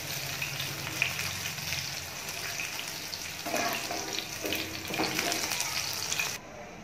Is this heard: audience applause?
no